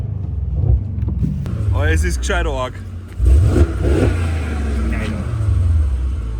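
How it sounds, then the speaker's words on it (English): A Mercedes E63S AMG engine revs in several loud rising bursts with a deep rumble, close by, while people talk over and between the revs. "But this is how an AMG is supposed to sound."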